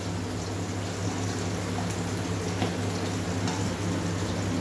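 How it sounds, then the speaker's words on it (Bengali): Steady hiss and crackle of fish frying in oil in a pan, a continuous, fairly loud sizzle with a low background hum and no voices. "এই মাছটা ভাজা চলছে।"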